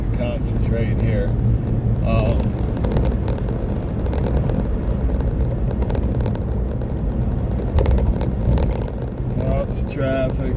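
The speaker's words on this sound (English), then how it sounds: "Lots of traffic." Road noise from inside a vehicle driving through open country, with a steady engine and tyre rumble and occasional passing traffic, someone talking over it at times.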